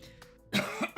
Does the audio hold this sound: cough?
yes